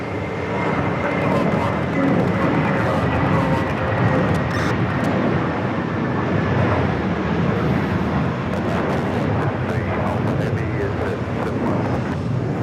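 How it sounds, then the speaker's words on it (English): A JetBlue Airbus A320 in special livery at JFK airport gives off a loud, sustained jet engine roar, with a voice talking over it. "Special livery JetBlue A320."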